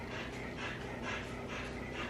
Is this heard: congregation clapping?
no